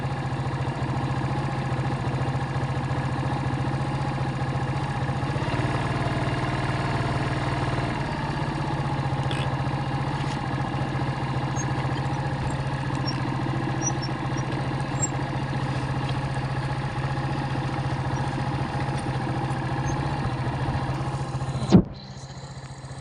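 A motorcycle engine idles steadily nearby at a rural hut, a constant low rumble that runs unbroken before cutting off abruptly near the end.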